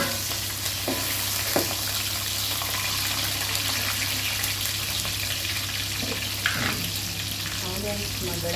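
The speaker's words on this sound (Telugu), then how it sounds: "ఆనియన్స్ మగ్గడం కోసం కొంచెం ఇస్తాను." Onions and green chillies frying in a pan for bagara rice, a steady loud sizzle with a few soft utensil taps and stirring clicks and no talk.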